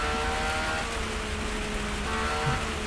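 Light rain falling outdoors, exaggerated by a close microphone into a steady, dense hiss that stays even and loud throughout, with no voices.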